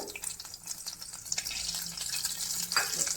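Cashew nuts frying in hot ghee for aval payasam. A faint, steady crackling sizzle with light scattered pops and a soft rush runs throughout.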